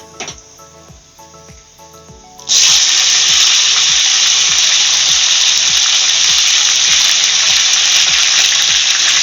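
Chicken pieces drop into a pan of browned mixture for chicken rezala, setting off a sudden loud, steady sizzle that holds hissing evenly to the end after a quieter stretch of gentle frying.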